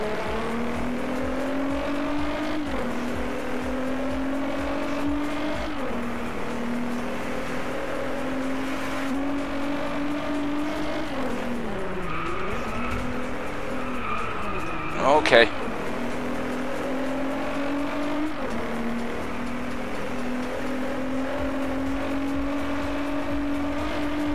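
A Nissan GT-R NISMO roars through a corner in the racing game Driveclub, its engine note rising and falling steadily. A short, sharp squeal of tires comes midway as the car understeers, while a voice talks over it.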